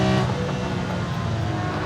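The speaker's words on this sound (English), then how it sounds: "When all around is going electric, let's hear it for a car that celebrates sound!" The engine of a Singer DLS reimagined Porsche 911 restomod, revving to 9,300 rpm, sounds as a loud, close, sustained mechanical drone with no speech.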